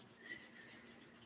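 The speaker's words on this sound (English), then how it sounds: "Rubbing your palms, heart high, chin lightly in, get it going" Palms rubbing briskly together, a soft continuous rasping hiss held steady and close throughout, with no talking.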